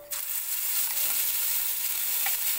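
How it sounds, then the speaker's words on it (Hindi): Gravy hits a hot pan for a home-style fenugreek, pea and cream curry, giving a steady, close, continuous sizzle with faint stirring, no voices. "ग्रेवी डाल दे"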